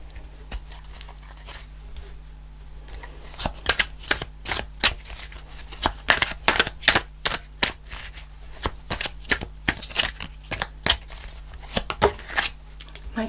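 Tarot cards are shuffled by hand in quick, irregular bursts of crisp riffling and slapping, close and clear over a faint steady hum.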